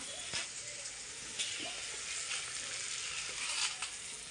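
Bay leaf sizzling in hot oil while tempering rice, a steady close frying hiss with small crackles and pops running throughout, no talking.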